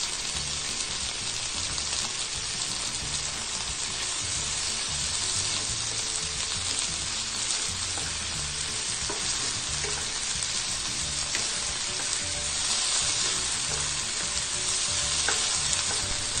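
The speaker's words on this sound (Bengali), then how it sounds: "এখন সুন্দর করে সব কিছু ভেজে নিতে হবে।" Prawns dusted with turmeric fry in a hot pan, giving off a steady, dense sizzle that runs unbroken and fairly close throughout, with faint spoon scrapes mixed in.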